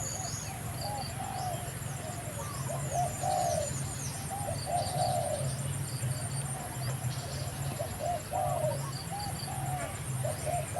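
Repeated bird calls, soft cooing and short warbling phrases, sound over a steady low hum of outdoor background noise.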